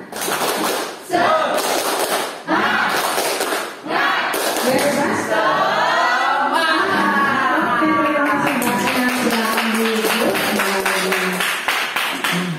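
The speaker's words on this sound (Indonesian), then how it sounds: "Tepuk semangat." A class doing rhythmic 'tepuk semangat' spirit clapping in a classroom ice-breaking activity, sharp bursts of group claps in patterned sequences, mixed with children's chanting voices through much of the stretch.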